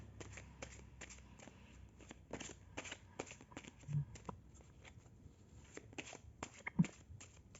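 Tarot cards are shuffled and drawn, with faint, close, soft riffling and crisp card flicks at irregular intervals in a quiet room.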